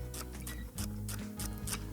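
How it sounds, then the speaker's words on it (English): Knife cutting fennel stems into thin rounds on a board, a quick series of crisp slicing taps repeating steadily over a low kitchen hum. "what I'm gonna do is just cut these into thin rounds"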